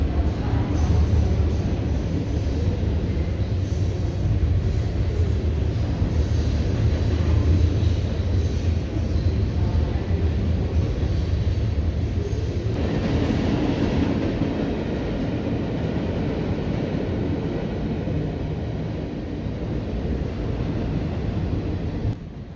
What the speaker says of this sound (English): it's hard to hear approaching trains, and this one caught us by surprise